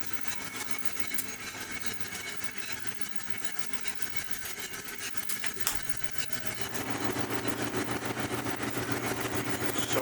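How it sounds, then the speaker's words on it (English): A Kaldi home coffee roaster with its flame off and blower running, a steady mechanical hum and whir that grows louder and fuller partway through, with no voices. "turned off the flame and turned on the blower"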